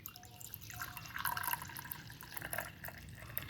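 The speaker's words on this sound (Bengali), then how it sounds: "এরপর আমি কাপে ঢেলে নেব, ঠিক আছে। এই দেখুন ঢেলে নিচ্ছি" Strained milk tea poured into cups, a soft, quiet trickle and light splashing of liquid that builds a little toward the middle, heard close and alone.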